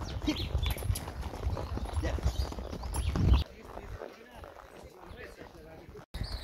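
A paint horse walks under a rider, its hooves giving a steady clip-clop that is loud at first and then quieter after the midpoint, with voices in the background.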